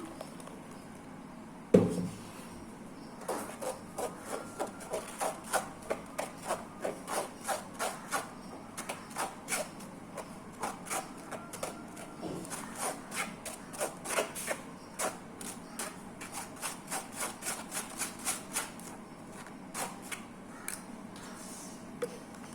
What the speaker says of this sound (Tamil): இப்போ நம்ம வடிகட்டிக்கலாம்.